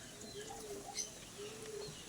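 Pigeons at a loft coo softly in a low, drawn-out murmur, faint and somewhat distant, with a couple of brief higher chirps over a quiet background.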